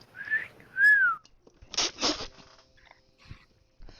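Two short rising whistles from a person, close and clear, followed by a muffled rustle and faint clicks.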